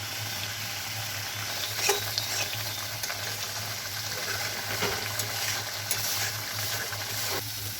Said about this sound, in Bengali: মশলাটাকে একদম কষিয়ে নেব